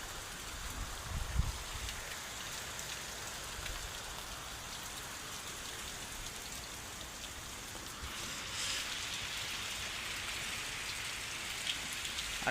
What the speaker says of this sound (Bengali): বাইরের বৃষ্টিটা দেখো।